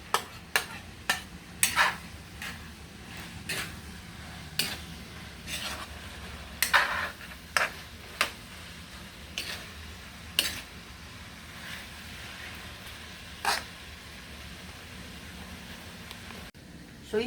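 Baguio beans and carrots are stirred in a pan for pansit, with a soft sizzle underneath and a series of sharp utensil scrapes and taps at irregular intervals, close by.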